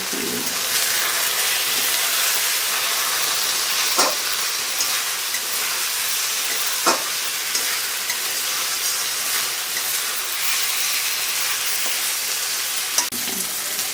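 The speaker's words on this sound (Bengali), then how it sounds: "আলুটা এবার তো কষানো হচ্ছে হ্যাঁ এবার মশলা দিয়ে কষা কষানো হচ্ছে" Potatoes cooked down in a pan with spices for a spicy egg and potato curry, under a steady, loud sizzle and hiss, with a few sharp clinks of a spatula against the pan.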